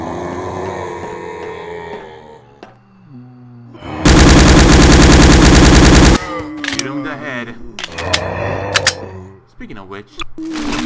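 Rapid automatic gunfire from Quake 1 weapons played in Garry's Mod: a loud, dense two-second burst of shots in the middle, with game sounds and scattered effects before and after.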